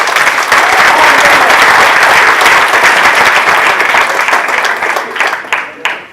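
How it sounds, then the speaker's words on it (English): A large audience claps in a loud, dense round of applause that holds steady, then thins out and fades toward the end as scattered individual claps remain. "Give them a huge round of applause."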